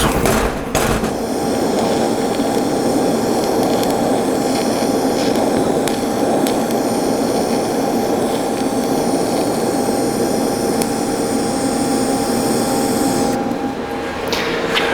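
Yeswelder CT2050 welder running a butt joint, a loud steady crackling hiss of the arc sustained for about twelve seconds without break, close up, starting and stopping abruptly.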